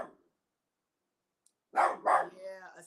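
A dog barks twice in quick succession, loud and close, followed by a short whining tail, after near silence broken only by a faint click.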